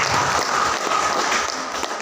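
Audience applause at a Musrenbang RKPD 2023 district planning meeting in Walantaka, a dense steady clapping from a gathered crowd lasting throughout, fairly loud and close.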